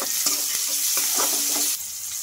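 Chopped onions and tomatoes frying in a pan, a loud close steady sizzle with crackling spatters and scraping stirs, easing slightly toward the end.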